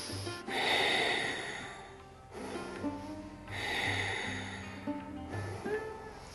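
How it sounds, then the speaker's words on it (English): Deep, audible breaths during a morning vinyasa yoga flow draw in and push out in long, slow cycles through the nose, sounding close and steady with a faint whistle as the air passes. "breathe deep"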